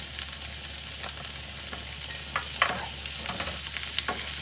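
Vegetable filling for flour-free veggie lettuce wraps sizzles steadily in a pan while being mixed with paprika, salt and black pepper, with soft scraping stirs and a few sharper spoon knocks over the constant hiss.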